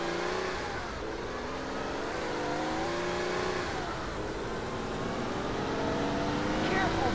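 A damaged, smoking car keeps driving in the Russian crime game GTA Criminal Russia, its engine droning steadily and shifting pitch under continuous game sound and a voice talking over it.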